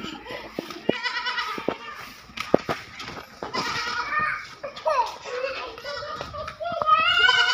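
A young goat on Bakra Eid bleats several times in wavering, nasal cries among scattered thumps and rustles, while people, including a child, talk and call to it nearby.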